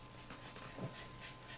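A dog pants softly at close range with quick, breathy rhythmic puffs and a slightly louder huff near the end, over a quiet indoor background with no talking.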